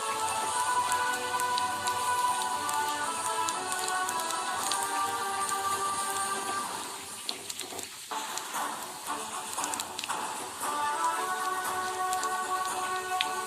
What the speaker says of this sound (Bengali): তেল দিয়ে দিয়েছি, কড়াই গরম আছে, তেলও গরম হয়ে গেছে। এবার আমি কালো জিরে ফোড়ন দেবো।